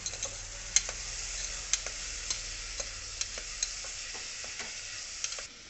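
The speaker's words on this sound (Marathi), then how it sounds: "गाजरही टाकायचं आहे तेलावर छान असे फ्राय करून घ्यायचे आहे" Onion, carrot and tomato frying in oil for a vegetable pulao biryani, a steady close sizzle broken by regular sharp clicks and scrapes of a spoon stirring against the pot, with no talking.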